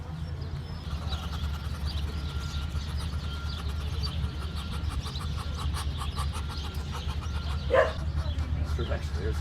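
Dogs bark repeatedly in the distance on a ranch with cows and roosters, a steady string of yaps under ongoing talk and outdoor background noise.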